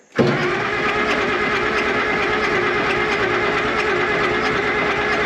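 A Case 970 tractor engine cranks and catches, settling into a loud, steady diesel run that carries on with no talk.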